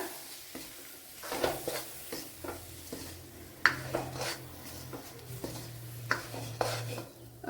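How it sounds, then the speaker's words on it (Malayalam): Soya chunks with pepper powder roasting in a pan over a low flame, a ladle scraping and stirring in irregular bursts with clinks against the pan over a faint sizzle and a low background hum. "ഇനി ഇതിനെ ഒന്ന് മൂപ്പിച്ചെടുക്കുക ലോ ഫ്ലെയിമിൽ വെച്ച് മൂപ്പിച്ചെടുക്കുക"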